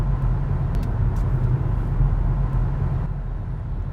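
An Acura RLX Sport Hybrid accelerating hard, with a steady low engine and road rumble heard from inside the car, no talking.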